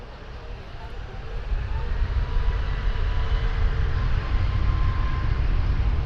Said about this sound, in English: Next we have a Bombardier Global 6500